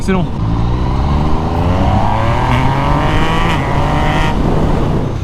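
Yamaha MT-09 motorcycle engine revving hard during a wheelie, a loud, steady roar with rising harmonic pitch over five seconds, heavy wind rush behind it.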